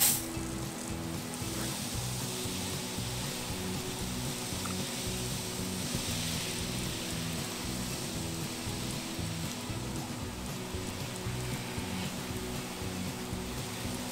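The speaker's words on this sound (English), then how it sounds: "Let's pour some concrete. Oh wait, we don't have to. We just gonna spray it." Concrete is sprayed on with a constant hissing spray running steadily for the whole stretch over a low mechanical hum, like a pressurized sprayer working nearby.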